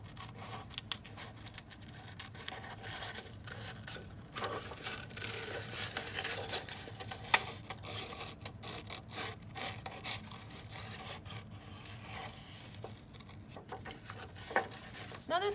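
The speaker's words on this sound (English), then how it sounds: "when I'm cutting with this part of my scissors, and I'm only doing this a little bit at a time" Scissors snip through paper while a nativity silhouette is cut out bit by bit, giving close, soft rasping crunches in an uneven, steady rhythm with no talk.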